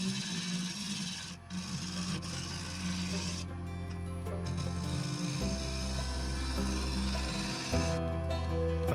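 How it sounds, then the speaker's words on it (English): A diamond card rasps back and forth over the cutting edge of a woodturning tool, a steady close scraping with brief pauses and a low background hum underneath. "I use a diamond card to redress the cutting edge"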